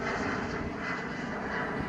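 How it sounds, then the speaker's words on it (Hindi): An Airbus airliner flies past near Glasgow airport with a steady, loud, broadband engine roar that holds for the whole stretch, with no talking. "ये एक और आवाज़ आई है जी, ये जा रहा है एयरबस है ये"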